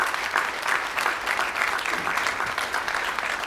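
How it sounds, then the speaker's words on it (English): Steady applause from a conference audience at a space industry partner event, even and moderately distant clapping throughout with no speech over it. "Let's give these guys a round of applause"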